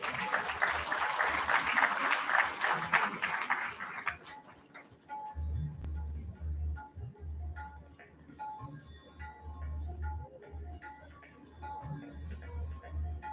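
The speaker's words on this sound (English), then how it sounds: "Please give them a big round of applause." A crowd applauds loudly for about four seconds, then the clapping stops and quieter room murmur and low voices take over.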